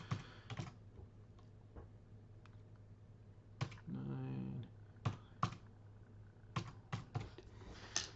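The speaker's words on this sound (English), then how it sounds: "Let me type in, I've got the old tag here in front of me" Quick bursts of keystrokes on a computer keyboard, clustered taps with short pauses, near and fairly quiet, entering an old grading tag's details for a comic or collectible unboxing.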